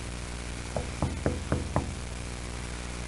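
Five evenly spaced knocks on a window in a horror film, sharp and fairly loud over a steady hiss of background noise, with no talk.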